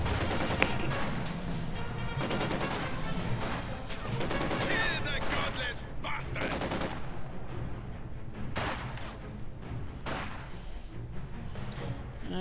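Battle sounds from Company of Heroes 2, a real-time strategy game with field guns and anti-tank guns in action: dense continuous gunfire and cannon thumps mixed with game effects, steady and loud throughout, with some voice audible underneath.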